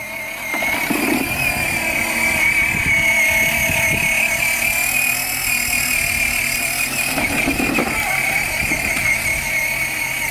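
A modified 12V mini quad being ridden, its electric motor giving a steady loud whine with a rough, constant drone throughout, heard close with no clear speech.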